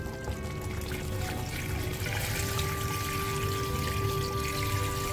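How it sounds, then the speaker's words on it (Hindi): Water pours steadily into a pot of paya trotters, a continuous close splashing gush that stays even and fairly loud throughout. "इसके साथ ही हम डाल देते हैं अब पानी"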